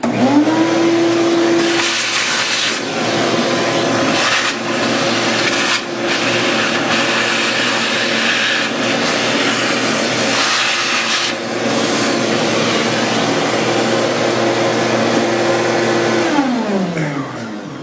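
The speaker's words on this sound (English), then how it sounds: "So I can get the vacuum cleaner here." A vacuum cleaner runs loudly and steadily at close range with a constant whine, its pitch shifting briefly as it starts and winds down, with scraping and bumping throughout.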